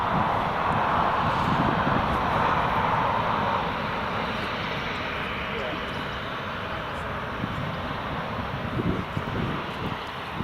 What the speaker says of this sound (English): Corendon Airlines taxi.